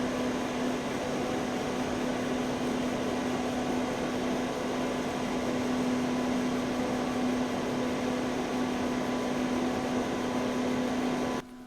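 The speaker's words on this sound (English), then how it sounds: "I hear a lot of motor sound with this fan, not just the sound of air rushing past" An ID-Cooling AF-125 cooling fan runs steadily throughout, a constant airy whoosh carrying a prominent motor hum beneath it, close and even, ending abruptly.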